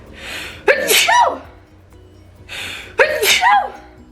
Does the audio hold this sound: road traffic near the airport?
no